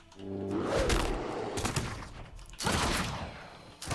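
Pistol shots fired by an Outlaw rogue in World of Warcraft: Battle for Azeroth, heard as several loud, close sharp blasts in irregular bursts amid combat noise.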